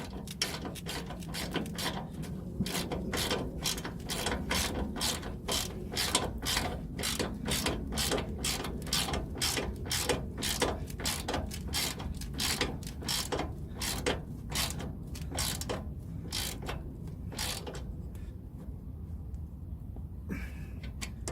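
A ratchet clicks steadily and rapidly while the pinch bolt on an Isuzu D-Max pickup's brake assembly is done up, close and continuous for about twenty seconds before slowing near the end, with no speech.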